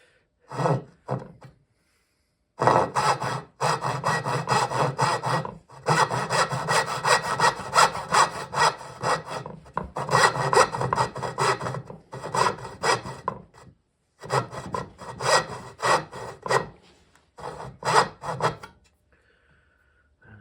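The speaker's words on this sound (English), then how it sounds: "I'm just gonna make some saw cuts close to the line, not on the line." A hand saw cuts wood close to a marked line in long bursts of rapid rasping strokes, separated by short pauses and a few quick final strokes, loud and near with no talking.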